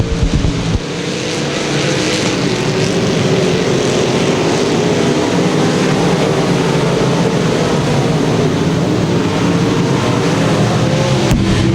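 IMCA Modified race cars roar around the Thunder Hill track in a heat race, a loud, dense and continuous engine drone with no gaps and no voices.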